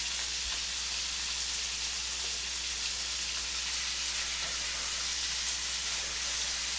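Meat sizzles in a hot pan for a home-cooked pot pie filling, a steady soft crackling hiss with no break, fairly quiet and with no talking over it.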